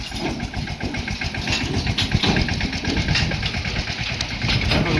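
A tractor engine runs steadily, a low chugging rumble with a regular throb, fairly loud and close, with no voices.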